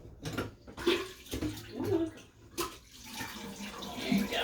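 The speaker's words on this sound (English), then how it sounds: "you can see the water comes out" Water gushes from a drainage pipe attached to a bathtub drain after clothes are washed in the tub, a steady close splashing flow with brief bursts of voice over it.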